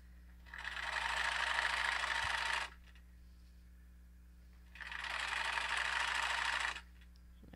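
A sewing machine stitching a flour sack towel runs in two steady bursts of about two seconds each, a dense mechanical whir with a quiet pause between them.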